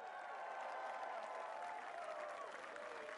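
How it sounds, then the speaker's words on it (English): Spectators at an American Ninja Warrior course in 2014 cheer and applaud continuously, a dense, steady roar of crowd noise that stays loud and even for the whole stretch. "Such great energy from the crowd, all of them behind her."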